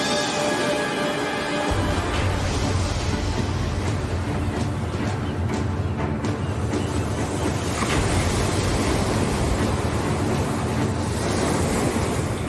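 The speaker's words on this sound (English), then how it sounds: "the waves are only getting rougher" Rough ocean surf off the coast of Peru churns without a break, a loud roar of breaking waves mixed with gusting wind buffeting the microphone and a low rumble, as if heard from a small boat out on the water.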